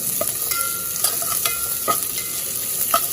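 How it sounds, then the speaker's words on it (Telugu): Onions frying in a pan for pork curry, cooked on a low flame toward light gold and stirred steadily; a continuous close sizzle with repeated scraping stir strokes, no voices. "ఉల్లిపాయలు మొత్తం కూడా మనకి గోల్డ్ కలర్లో లైట్ గోల్డ్ కలర్ వచ్చేటట్టుగా తిప్పుకోవాలి"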